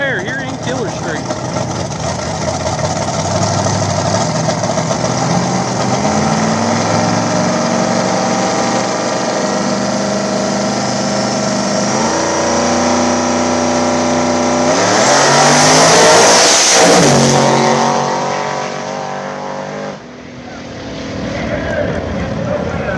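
Big block nitrous Camaro drag racing on an old-school no-prep street surface, a loud sustained engine roar building and sweeping through the run, with an announcer talking over it.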